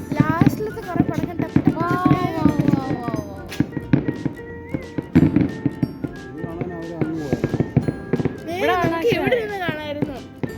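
New Year firecrackers and fireworks pop and crack in scattered, irregular bursts near and far, mixed under lively talk from people watching.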